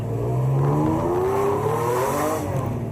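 A Ferrari Testarossa sports car rolls slowly along the lanes of a campsite, its engine giving a loud, smooth, gently rising drone close by, with no talk.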